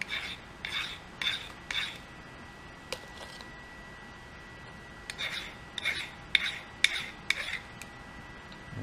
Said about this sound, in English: let me get a file here. Let's deburr this